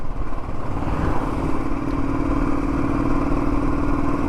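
A motorcycle ridden slowly in low gear along a mountain road toward Yumthang Valley, its steady mid-pitched engine drone running continuously, close and loud, with light clatter and no voices.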